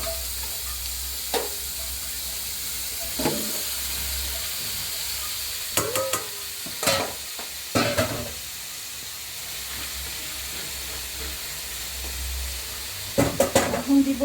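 Cauliflower and potato frying with green chili and onion, a constant sizzle and hiss in the pan broken by several clanks and scrapes of the spatula, close up with little talk.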